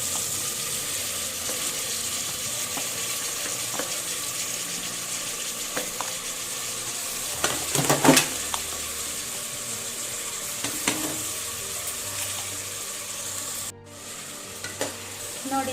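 Chopped tomatoes sizzle steadily in a hot pan while a spoon stirs them now and then, with a brief scrape and clatter of the utensil midway and a faint clink near the end.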